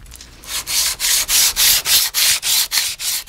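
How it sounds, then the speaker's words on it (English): Rhythmic sanding strokes rasp against a wooden scoop, about a dozen even back-and-forth passes in quick succession, close and fairly loud. "So it's just a case of some more sanding,"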